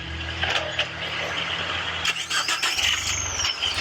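An off-road vehicle's engine on a Moab trail, revved by hand throttle, giving a steady close mechanical drone with brief squeals and clicks and a rise in low rumble near the end.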